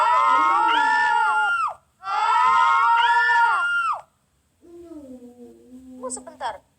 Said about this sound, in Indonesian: Kok ada suara teriakan sih?